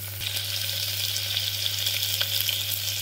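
Onion and capsicum frying in a pan, a steady close sizzle with light stirring scrapes and a low constant hum beneath, no talking.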